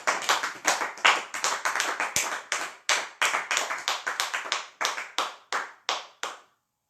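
A church congregation claps in praise of the Lord, a loud run of bursts that starts and stops in rough rhythm, with short pauses between groups of claps and no cheering voices clear.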